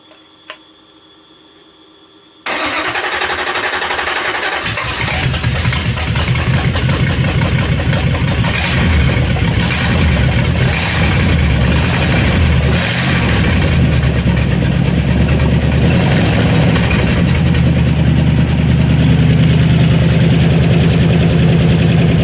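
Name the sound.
V8 car engine starting and idling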